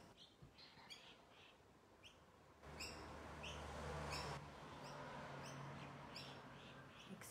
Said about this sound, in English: The birds are having a lovely time.